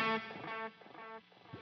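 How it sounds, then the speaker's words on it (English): Electric guitar run through a Line 6 Helix with parallel routing, a played note followed by dry delay repeats that carry no reverb, a sustained harmonic tone decaying into quieter echoes, close and alone. "Do you hear how those delayed repeats no longer have the reverb on them?"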